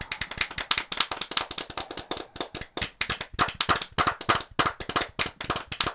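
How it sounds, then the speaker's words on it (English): A single person claps hands rapidly and closely, producing a long run of crisp, loud, individual claps in a fairly steady but slightly uneven rhythm, with no talking. "I'm going to multiply it in post so it sounds like a bunch of claps"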